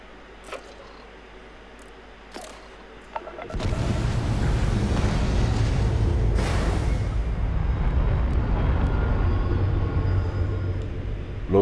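A repaired spaceship in a video game powers up and lifts off: after a few faint clicks, a loud, steady full-band engine roar kicks in and holds at a constant level.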